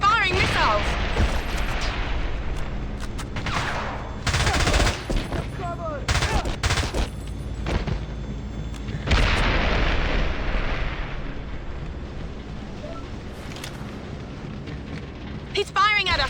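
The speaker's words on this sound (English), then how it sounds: "James, he's firing missiles." Missiles and gunfire in the James Bond 007 Blood Stone game: repeated heavy explosions and bursts of rapid fire, loud and close, rising and falling over sixteen seconds, with voices talking over the combat.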